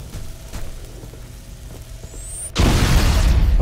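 A grenade goes off in Halo Combat Evolved Anniversary, a heavy close boom that cuts abruptly into a steady hiss of battle noise and holds loud to the end.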